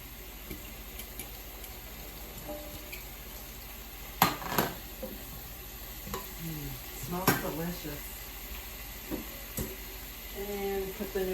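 Garlic and cooked broccoli sizzle softly in a pan under scattered stirring scrapes and clinks, fairly quiet, with a person talking intermittently throughout.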